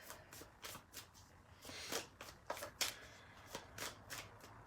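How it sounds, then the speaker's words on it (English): Tarot cards are shuffled by hand in a run of quick, crisp riffling bursts with short pauses between them, close and fairly quiet, with no talk. "Sometimes shuffling takes a long time, and sometimes..."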